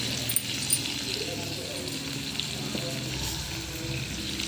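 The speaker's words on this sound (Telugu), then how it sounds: "ఇవన్నీ బాగా ఫ్రై చేసుకోవాలి" Tomatoes, curry leaves and salt fry in a pan, giving a steady low sizzle with a few faint stirring clicks and a voice talking over it.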